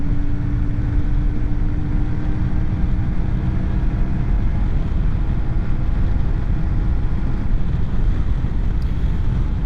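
CFMOTO Ibex 450 motorcycle engine held at high revs while riding downhill, a steady busy drone buried under heavy, continuous wind buffeting on the microphone.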